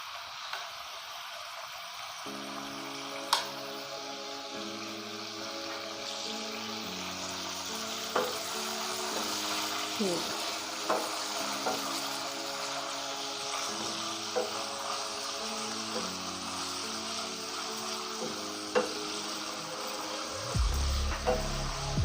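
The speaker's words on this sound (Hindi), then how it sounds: "चिकन को हमने अच्छे से जो है ना वो फ्राई करना है।" Boneless chicken frying in a pan gives a steady sizzle with scattered ticks and pops from the oil, with no voices over it.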